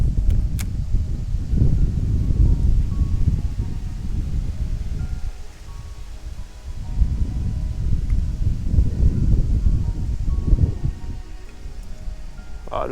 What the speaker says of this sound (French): Ah, le vent, putain, toujours le vent.